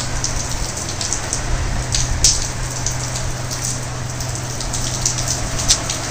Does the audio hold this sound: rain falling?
yes